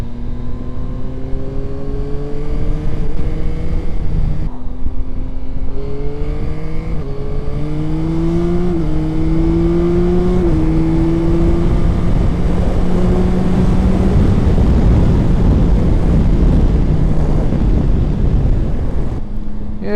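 A Yamaha Tracer 9 GT+ sport tourer motorcycle rides hard, engine revving up through gears with rising pitch between shifts, heavy wind rush over the microphone throughout.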